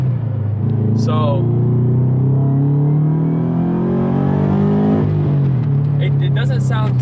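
A loud, deep engine of a Subaru FRS with new exhaust headers drones steadily close by, its pitch rising and falling with revving, while a voice briefly speaks over it.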